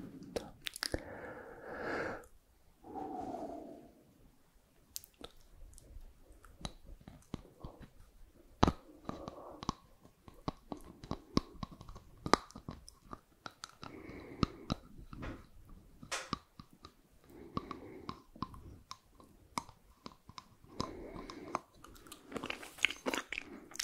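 Close-up chewing and biting on something hard and tough, with dense irregular crunches, clicks and wet mouth noises. A brief soft vocal murmur comes near the start.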